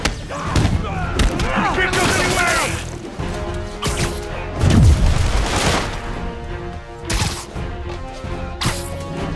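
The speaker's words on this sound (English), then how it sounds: "Stop with the rockets, dang it." Marvel's Spider-Man video game combat: loud crashing rocket blasts and heavy impacts in irregular bursts amid chaotic fighting, with someone talking over parts of it.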